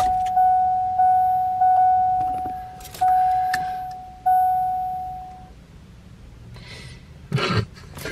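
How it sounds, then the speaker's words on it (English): A car's key-in-ignition warning chime repeats steadily as a clear, close beeping tone for about five seconds, then stops, followed by quiet cabin noise and a brief rustle near the end. "I don't know why it's beeping. It only does that when we have keys in the car."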